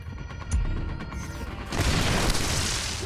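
A flashbang grenade goes off in the video game Splinter Cell Blacklist, a muffled boom followed by a hissing, ringing wash of noise and a second burst, with game sounds around it and no speech.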